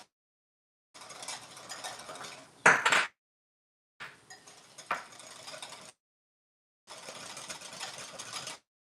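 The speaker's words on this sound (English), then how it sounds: "And you're gonna whisk it together" Aioli ingredients being whisked in a bowl, heard as three separate bursts of brisk scraping and clinking, with a sharp louder knock in the middle and short pauses between bursts.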